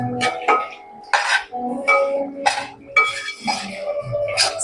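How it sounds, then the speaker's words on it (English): Sesame seeds (teel) stirred in a metal pan, with irregular clinks and scrapes of the spoon against the pan in uneven bursts, close and moderately loud. "And now we will add the Teel. And keep on stirring."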